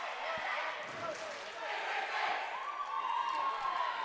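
Crowd cheering at a Gordon-Rushville Mustangs versus Chadron Cardinals high school volleyball match after an ace serve, a sustained roar of excited voices in a gym, loud and steady, with some shouts.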